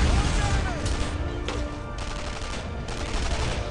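Suppressing gunfire in Brothers in Arms, a steady dense crackle of rifle and machine-gun shots over a constant low battlefield rumble, with shouted voices faintly mixed in.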